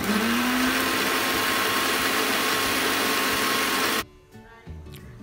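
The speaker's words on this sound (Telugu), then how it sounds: "సో ఇప్పుడు అవన్నీ ఆకులన్నీ మనం మిక్సీ పట్టుకోవాలి." A kitchen mixer grinder blending leaves with water, a steady loud whirring motor hum for about four seconds before it cuts off, leaving faint clatter.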